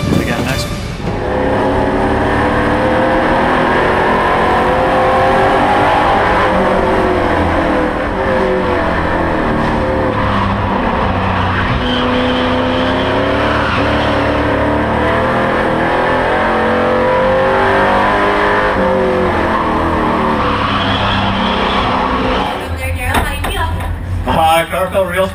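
A race car engine roars around a grassroots racing track, a loud, sustained drone rising and falling with shifts in revs, with a brief burst of noise at the end.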